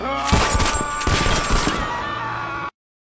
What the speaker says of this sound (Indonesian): pria itu langsung meraih sebuah senapan lalu berusaha menembak Julia dan Haken.